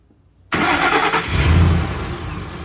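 A car engine cranks briefly during a battery cranking test and catches, roaring to life and settling into a steady running rumble, close and loud.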